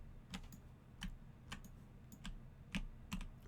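WASD keys tapped on a computer keyboard give sparse, crisp clicks, about a dozen irregular taps, quiet and close, with no other sound.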